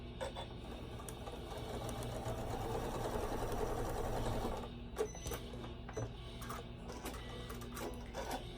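A sewing machine stitching quilt fabric scraps together runs with a steady, fast mechanical whir and rapid needle clatter, fairly quiet and close, with a brief slowdown midway before resuming its even hum.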